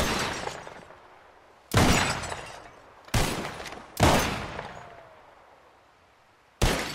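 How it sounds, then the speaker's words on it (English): Four sharp gunshots ring out at a shooting contest, each with a crack and the burst of a glass bottle shattering, followed by a decaying echo. The shots come at irregular intervals, with quiet gaps between. "Whoever shoots more of these bottles wins."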